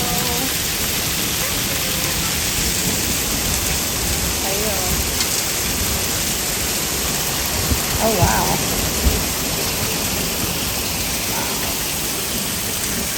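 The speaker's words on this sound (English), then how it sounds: "Look at the hail." Heavy rain and hail pour down outside a patio in a dense, steady hiss with occasional low rumbles, while a voice briefly exclaims over the downpour.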